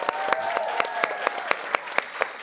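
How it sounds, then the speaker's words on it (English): A studio audience at a comedy talk show bursts into applause, a steady wash of crowd clapping with sharp individual claps standing out, moderately loud and heard on its own. "Make some noise for Coleman Hughes, y'all"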